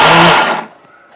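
An electric mixer grinds coconut peanut chutney with salt and ginger, a loud, close whirring burst that cuts off abruptly after about half a second, leaving quiet.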